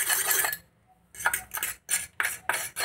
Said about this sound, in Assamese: এতিয়া নেক্সটটো এইখিনিও ধুনীয়াকৈ চামুচখনেদি মিহি কৰি লওঁ।